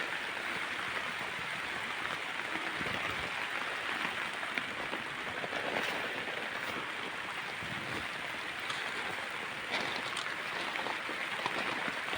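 Rain falls on a morning in a village in Rize, Turkey, a steady broadband hiss of drops on surfaces, constant and close with no speech.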